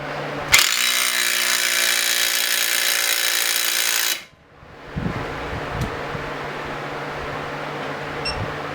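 A Dewalt cordless impact wrench loosens a fastener in one loud, sustained burst of rapid hammering lasting about three and a half seconds. It stops abruptly, leaving quieter clatter and handling noises.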